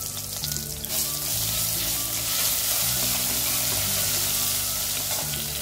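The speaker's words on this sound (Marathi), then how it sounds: "मोहरी तडतडली, थोड्याशा हिरव्या मिरच्या टाकू." Mustard seeds and green chillies fry in hot oil, giving a loud continuous sizzle and crackle with faint popping throughout and no talking.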